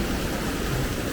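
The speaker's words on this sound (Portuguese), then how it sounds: "Plataforma para poder você ouvir o som da água batendo aqui dentro" Dense, steady splashing and rushing of water striking surfaces inside an enclosed platform in a sensory garden in Singapore, loud and continuous like heavy rain, with no voices.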